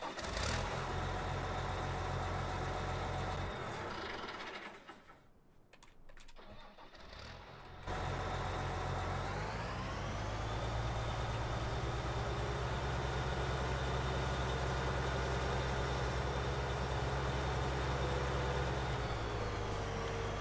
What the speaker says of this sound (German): es ist halt von dem Case-Traktor der Sound